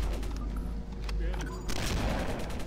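Gunfire from a weapon in the video game Halo rattles out in rapid bursts amid game effects, fairly loud, with players talking over it.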